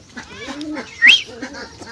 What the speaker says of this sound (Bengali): আর এখানে আমাদের লকা কবুতরটা আছে